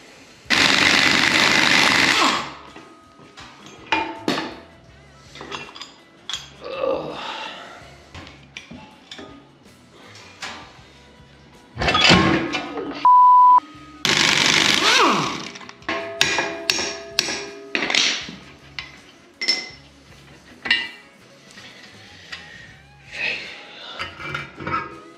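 Steering knuckles come off a Dana 60 front axle amid bursts of loud impact-wrench rattling, metallic clanks, taps and scraping, irregular and close, with quiet gaps between the tool bursts.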